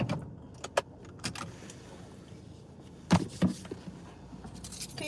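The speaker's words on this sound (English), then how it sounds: "Keys," Keys jangle in a few sharp, close bursts scattered over quiet outdoor background, some clicks loud and near, with no talking.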